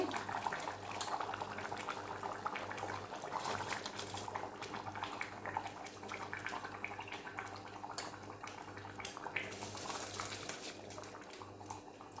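A pot of water rolls at a hard, vigorous boil for chicken biryani, a continuous bubbling and churning texture that stays close and even throughout, with no talking over it.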